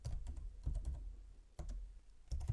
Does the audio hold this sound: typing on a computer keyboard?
yes